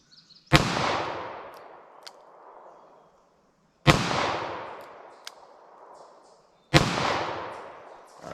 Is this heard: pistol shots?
yes